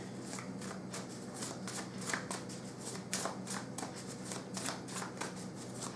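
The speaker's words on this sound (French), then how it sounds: "pendant que je bats les cartes" Tarot cards being shuffled by hand, a continuous quiet run of soft riffling flutters and taps at close range, steady and unhurried with no voice.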